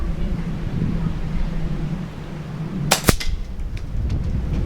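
A single sharp crack from an FX Wildcat air rifle firing a pellet at a target 25 metres away outdoors, heard once against steady wind noise, followed by a faint, brief echo.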